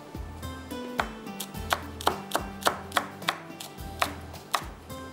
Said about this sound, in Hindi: इतनी देर में हम धनिया हरी मिर्चों वगैरह को कट कर लेते हैं